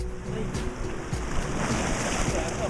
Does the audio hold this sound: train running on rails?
no